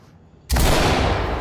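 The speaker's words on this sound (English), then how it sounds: "I want you to breach with a shotgun and use the shotgun on the door" A shotgun blast breaching a door in the tactical shooter Ready Or Not: one sudden loud, close boom that cuts through the quiet, followed by a sustained noisy rumble and crash of debris.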